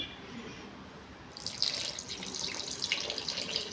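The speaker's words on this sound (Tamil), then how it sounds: "போடவா, தண்ணி ஊற்றவா?" Water being poured at home, a splashing, gurgling stream starting after a moment of quiet and continuing steadily, close and fairly soft.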